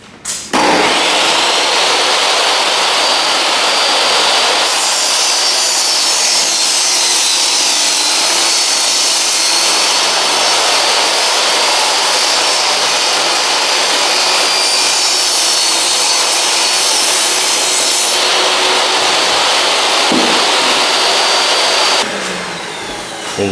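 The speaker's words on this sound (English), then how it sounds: "take hardwood flooring board with tongue and cut 1/2 inch on table saw." Table saw ripping a strip from a tongue-and-groove hardwood flooring board, a loud, steady whine of blade in wood held for about twenty seconds before spinning down at the end.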